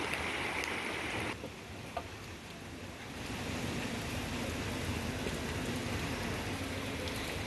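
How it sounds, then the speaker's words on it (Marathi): Heavy monsoon rain falls in Virar as a steady, fairly faint hiss of downpour with no voices, briefly dipping once before resuming. "अजूनही या ठिकाणी मुसळधार पाऊस सुरू"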